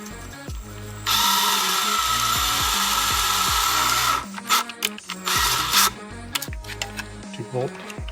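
A power drill boring bolt-mount holes with a drill bit into a HP DPS-1200FB server power supply case, a steady high whine for about three seconds followed by shorter bursts and clatter.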